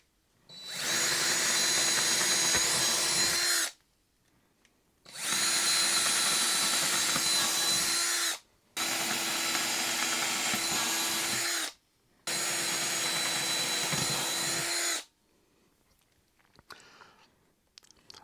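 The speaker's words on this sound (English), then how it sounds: "All right, let's get to drilling." A power drill bores through a model engine shed on a railway layout in four loud, sustained whirring bursts of about three seconds each, separated by short pauses, ending with faint handling noises.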